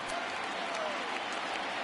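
Crowd noise from a baseball stadium in MLB The Show, a steady broadband roar of cheering and applause rising for a full-count pitch, continuous and fairly loud throughout.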